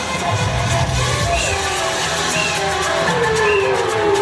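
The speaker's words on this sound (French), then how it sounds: "On acclame très fort." An audience at a French-language entertainment show cheers loudly, with a steady wash of crowd noise, whoops and shouts that keeps going throughout, with faint music underneath.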